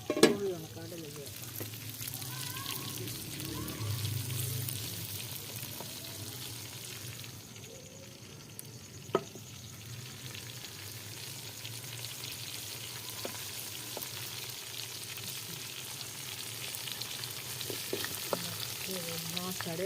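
Eggplant pieces for baingan masala frying in oil in a pan, a soft continuous sizzle with occasional stirring clicks and scrapes, fairly quiet and close.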